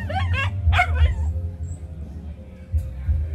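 Small dogs at a dog farm give a few high, quick yips and whimpers near the start over a steady low hum, then quieter scattered noises.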